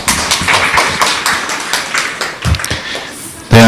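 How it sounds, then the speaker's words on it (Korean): An audience at a corporate lunch-talk lecture claps to welcome a speaker. Sparse, uneven, close handclaps and taps thin out toward the end, and a voice breaks in sharply right at the close. "박수로 맞아주세요."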